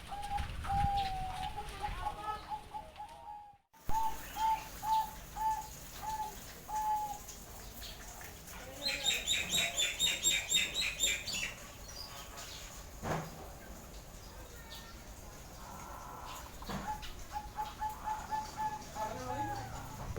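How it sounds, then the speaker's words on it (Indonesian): Zebra doves coo at a bird breeding farm, repeated rhythmic cooing phrases near and far, with a burst of higher chattering calls midway and faint voices in the background. "Terlalu banyak perkutut."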